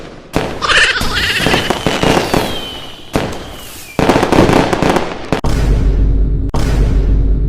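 Firecrackers set off during a Ganesh immersion procession burst in loud, crackling rapid volleys, sharp close pops that run nearly continuously with brief gaps.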